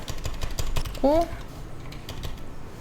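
Keys on a computer keyboard clack in quick, uneven bursts while a blog post is being edited, close and fairly soft, with a voice briefly cutting in.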